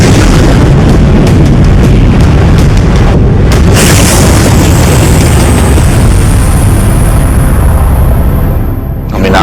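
A high-speed projectile launcher fires, producing a continuous loud, roaring blast that fills the whole span, with a brief sharp burst partway through, a rising whine near the end, and no voices.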